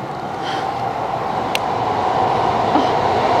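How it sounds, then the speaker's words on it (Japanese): A train in the Netherlands rumbles past with a steady roar and rolling rail noise, loud and close, with a brief sharp click partway through. "ここは電車。"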